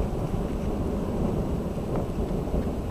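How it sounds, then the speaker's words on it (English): Thunder rumbles outdoors during a storm, a loud, continuous low roar that fills the whole clip with rain hiss mixed in and no talking. "That's thunder, we gotta get in."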